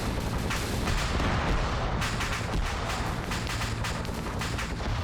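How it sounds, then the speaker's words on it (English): Heavy booming fire from a tank in a military video game, a dense, continuous roar of explosive blasts and gunfire that stays loud and close through the whole stretch. "That might have been a tank going off."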